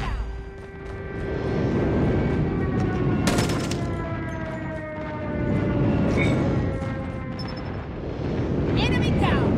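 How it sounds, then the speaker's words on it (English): Airstrike in the shooter game Call of Duty Mobile: a run of heavy explosions and rumbling blasts over nine seconds, loud and close, with sharp bursts and mixed battle noise, and game voices calling out. "Airstrike incoming."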